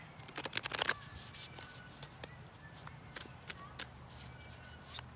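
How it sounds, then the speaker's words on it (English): A deck of oracle cards is shuffled in a quick, close riffle burst near the start, followed by a few soft taps and handling sounds in a quiet room. "Do a little shuffle here."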